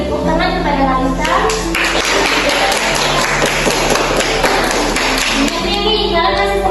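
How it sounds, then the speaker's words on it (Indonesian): A classroom of students claps for a classmate, a brief patter of hands mixed with children's chatter and a teacher's voice, with loud talking running over it. "Beri tepuk tangan kepada Kalista."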